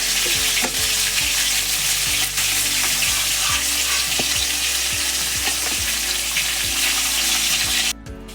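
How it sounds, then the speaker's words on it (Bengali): Pieces of silver carp frying lightly in hot oil, a loud, steady crackling sizzle punctuated by repeated spatula scrapes against the pan, cutting off abruptly near the end. "এই মাছ আমি একটু হালকা ভাজবো"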